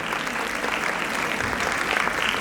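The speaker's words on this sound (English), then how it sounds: "A huge round of applause for him." A dense, even round of applause from an audience honouring a Member of Parliament at a conversation event, continuous and fairly loud for a few seconds with no speech over it.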